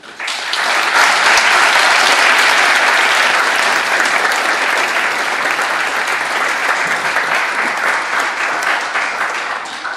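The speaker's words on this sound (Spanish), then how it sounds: "les pido un fuerte aplauso para Andrés" A large audience applauds a poet loudly and steadily, dense clapping filling the room for about ten seconds with no speech over it.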